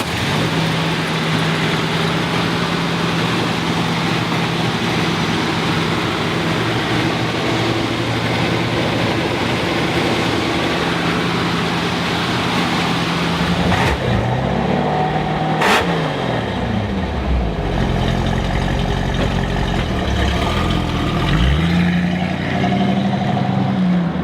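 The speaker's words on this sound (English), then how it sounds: "I'll tell you what, this 428 is making power." A 1969 Ford Mustang Fastback R-Code with its 428 Cobra Jet V8 on a road drive gives a loud, steady engine drone and road roar. Partway through, the engine shifts to a rising rev and tone change.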